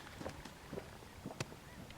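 A few brief honks from geese, fairly faint and distant, scattered across a quiet outdoor background at a lake during a duck hunt.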